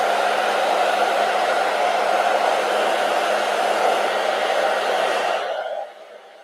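A hair dryer blows with a loud, steady whoosh over a painting being dried, running continuously before switching off and winding down near the end, with no voices.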